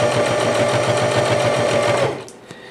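A Singer Heavy Duty 5554 sewing machine stitches through thick fabric layers with a loud, steady rapid needle rhythm for about two seconds, then runs down and stops, leaving quiet room noise.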